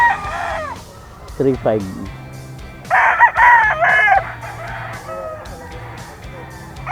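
A gamecock rooster crows at a fowl yard, several loud bursts with talk from a man throughout.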